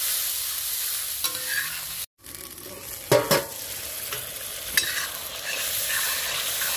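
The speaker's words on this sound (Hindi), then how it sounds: "ये प्याज लहसुन अदरक मिर्च सब भून गया है" Onion, garlic, ginger, chili and spices frying in a pan for a cabbage curry, with a steady close sizzle, a brief cut of silence and a few scraping stirs of a spoon against the pan.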